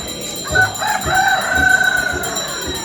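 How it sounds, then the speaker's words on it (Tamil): A rooster crows once at moderate distance, its strained, wavering call rising and fading over about a second, with faint clucks and outdoor ambience around it. It is one of the roosters left at Kataragama at the end of a pilgrimage. "சேவல் இப்போது இங்கே வந்து சேவல் இதுக்கு கொண்டு விடப்பட்ட சேவல்கள்"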